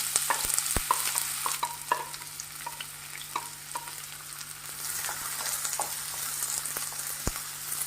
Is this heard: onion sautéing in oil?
yes